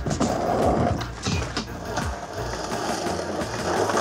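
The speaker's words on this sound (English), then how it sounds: "We're gonna come in the first ledge, and we'll do a Smith grind." A skateboard rolls on concrete and then scrapes loudly and roughly in a Smith grind along a ledge at a skate course, with rumbling wheels and a few sharp knocks as the board lands.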